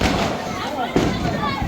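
Diwali firecrackers burst outdoors during a family celebration, a dense, continuous crackle of pops with a sharper bang near the middle, loud and close amid background voices.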